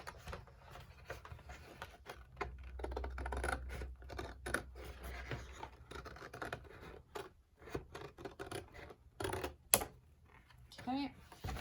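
Scissors snip and scrape through paper, cutting inside a folded crease while wrapping Christmas presents, with rustling paper and short crisp cuts close by, a voice talking over part of it.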